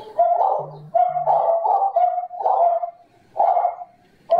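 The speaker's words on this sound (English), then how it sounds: "The dog them all barking in a different language." Dogs bark in a series of close, repeated, fairly loud barks, separated by short pauses, with no talk.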